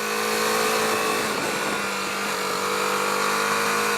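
A BMW G310R motorcycle engine drones steadily while ridden in third gear, a continuous loud mid-pitched hum mixed with rushing wind, with no voices.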